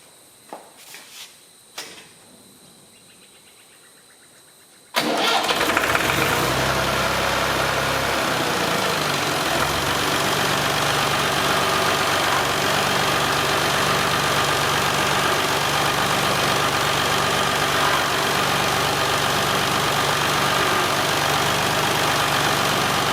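A Massey Ferguson 20 tractor engine, just reassembled after steering work, cranks into life about five seconds in and then idles loudly and steadily with a dense, constant mechanical roar.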